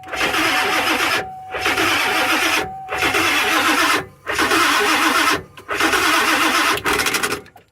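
An old vehicle engine with weak batteries cranks in four or five loud bursts separated by short pauses, each a steady churning whir as the starter tries to catch, close and with no talking.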